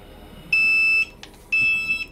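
Two loud, sustained electronic beeper tones, each about half a second, sounding alone from the alarm in the underwater survival game Subnautica, with a soft click between them.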